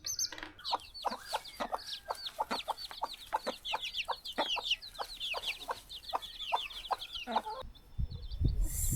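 Hens and chicks in a backyard chicken coop cluck in quick, repeated bursts alongside high peeping, moderately close, with a brief rustling louder noise near the end.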